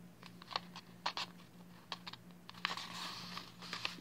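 Sheet of paper being creased and folded by hand for a paper airplane, a run of soft close crinkles and taps building to a brief rustling stretch, quiet with no talk.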